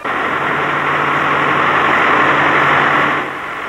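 Tractor engine idling at a carnival parade, a steady low rumble with a constant hum, loud and close, running alone before easing slightly at the end.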